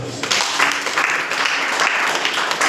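A church congregation bursting into applause, a loud sustained wash of many hands clapping together at close range for a few seconds.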